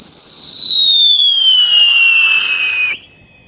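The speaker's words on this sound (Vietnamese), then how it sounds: "Công nhận là con chuột này nó hú rất là to luôn các bạn ạ." Whistling mouse firecracker launched along a steel wire: a loud, piercing whistle that slowly falls in pitch for about three seconds, then cuts off abruptly, leaving faint background, no talking.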